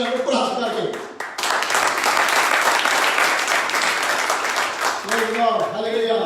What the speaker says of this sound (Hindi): तालियां हो जाए ऊपर हाथ करके।